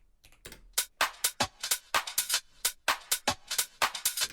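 A groovy house music loop plays alone, built on crisp, evenly spaced percussive hits in a quick, steady rhythm with short sharp transients.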